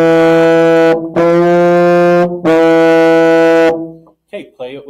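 A euphonium plays three sustained notes, moving from open to second valve on F, each held about a second with short breaks, loud and close; speech follows at the end.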